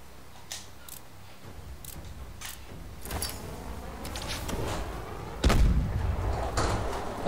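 Grenade blasts and impacts in the Advanced Warfare shooter's grenade training, a string of sharp bangs and thuds with one heavy boom near the end over a steady rumbling game backdrop, no talking.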